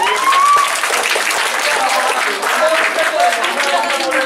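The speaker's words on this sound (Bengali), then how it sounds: "তো সবার আগে তোমাদের জন্য একটা জয় হাততালি দাও।" Loud, sustained applause from a motivational-talk audience fills the whole stretch, dense steady clapping with a few voices mixed in.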